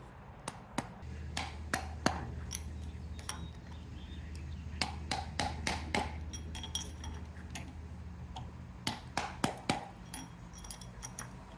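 A BMW Z3 center support bearing being tapped onto splines, a series of sharp metallic taps in irregular clusters, some quick and some spaced apart, close and distinct over a low background hum.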